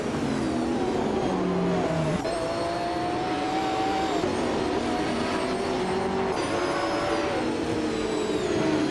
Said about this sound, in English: The race is underway at Horsma Raceway full track. Joey starts on pole driving a classic 1995 McLaren F1 GT R in the Retro GT 500 class.